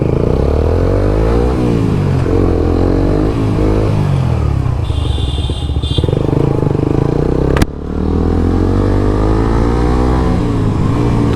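A motorcycle engine drones loudly and steadily while riding, with shifting pitch as the revs rise and fall and a short sharp click partway through.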